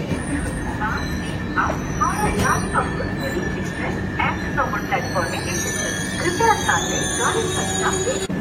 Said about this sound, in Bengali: বোলপুরের 1 নম্বরে আমাদের ট্রেন ঢুকলো